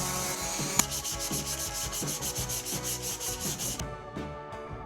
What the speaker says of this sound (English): we sanded the inside as it's easier to do now than later